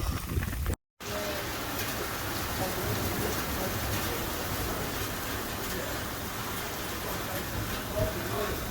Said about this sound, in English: As you can see, crazy storm, absolutely ruthless storm.